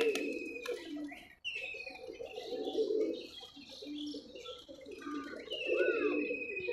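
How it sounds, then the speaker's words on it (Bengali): Pigeons, including highflyer breeds, cooing in a loft, several soft low coos overlapping with a few chirps and a brief flutter, fairly close and moderately quiet. "বেশ কিছু কবুতর দেখেন"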